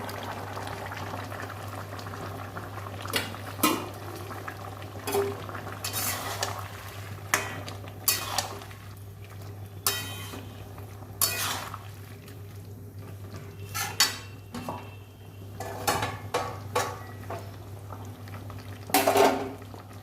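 Fried mixed vegetables and green chilies sizzle and bubble steadily in a pan for a long stretch, broken by occasional clinks and scrapes of a utensil stirring.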